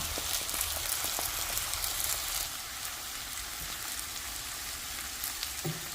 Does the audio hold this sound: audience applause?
no